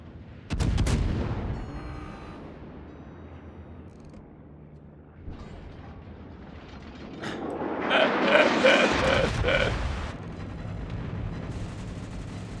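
Anti-aircraft defensive fire from a warship in World of Warships, heard as a rapid, rattling burst of flak that swells in the middle and fades, after a sharp loud shot near the start and over a low mechanical rumble.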